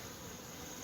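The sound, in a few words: bees flying around beehives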